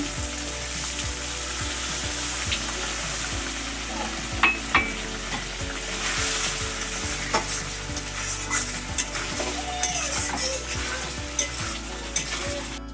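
Milk poured into a frying pan over cashew and poppy seed paste for a coconut-free prawn malai curry, with a steady sizzle and repeated soft stirring scrapes of a spatula throughout.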